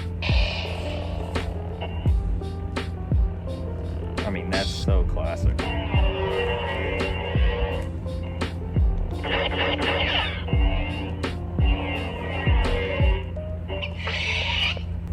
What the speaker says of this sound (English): I love it just for the hum of it sitting still.